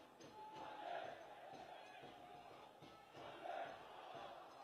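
Damash Gilan football fans in the stadium roaring in unison, a broad, steady crowd swell that surges twice, distant and diffuse beneath a commentator's voice.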